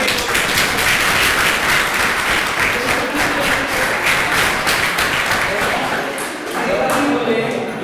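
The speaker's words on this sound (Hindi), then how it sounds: "मेघा जी के लिए तालियां बजनी चाहिए" Audience applause at a personality development seminar, a dense wash of clapping from a crowd that stays steady and loud throughout, with a slight dip and recovery near the end.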